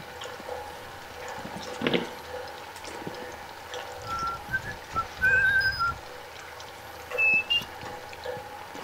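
A person whistles a few short, thin notes over quiet background rustling during a session of the horror game Outlast; the whistles are faint and brief, with no talk over them.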